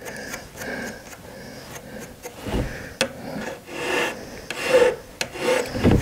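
A zero-cut metal file rasps across a small goldsmith's piece at a bench, close repeated strokes with an irregular back-and-forth rhythm and light scraping between them.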